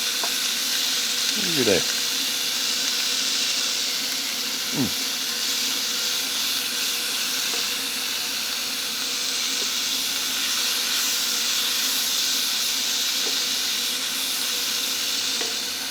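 Sweet peppers sizzle steadily in a hot pan, a continuous bright frying hiss throughout with occasional stirring scrapes, while a person speaks briefly over it.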